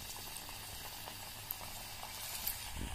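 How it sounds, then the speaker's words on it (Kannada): Rava chakli deep frying in hot oil over a medium flame, a steady bubbling sizzle with scattered soft pops and crackles throughout, fairly close and continuous. "ಈಗ ಮೀಡಿಯಂ ಫ್ಲೇಮಲ್ಲಿ ಇಟ್ಬಿಟ್ಟು ಚಕ್ಲಿ ಡೀಪ್ ಫ್ರೈ ಮಾಡ್ಕೊಳೋಣ"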